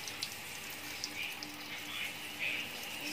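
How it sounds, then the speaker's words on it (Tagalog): Water pours steadily into a pot holding pork leg for pressure-cooking, a soft continuous splashing stream with small bubbling accents, fairly close and moderately quiet. "Lagyan na natin ang tubig."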